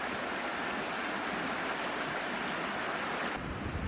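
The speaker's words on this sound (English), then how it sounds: "And we can hear the waterfall." Abiqua Falls waterfall and its stream in Oregon give a loud, constant broadband rush of falling and flowing water close by, continuous throughout with no voices.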